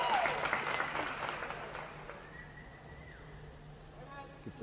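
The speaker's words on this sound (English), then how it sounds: "Gets a nice round of applause from the crowd." Crowd applause after a platform dive at a Big Ten diving final, a broad wash of clapping that swells early then fades over a few seconds, with a reverberant indoor pool hall feel and faint voices underneath.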